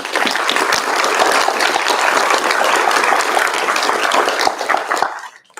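A spelling bee audience in Johnson County claps for the spellers, a loud, dense burst of applause holding steady for about five seconds before cutting off abruptly.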